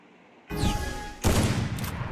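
Gunfire in a shooter video game during a 1v1 match, with two sudden loud bursts of shots about a second apart, each ringing on briefly.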